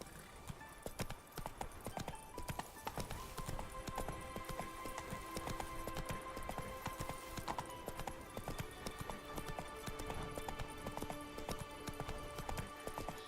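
Hoofbeats of Geralt's horse Roach in The Witcher 3: Wild Hunt, a rapid, steady clip-clop of galloping hooves over layered game music, continuous and close.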